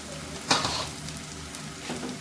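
Ground turmeric, chili, cumin and coriander powders fry in oil for a Bengali duck egg curry while being stirred, giving a continuous close sizzle with a louder scraping stir near the start and another softer one toward the end.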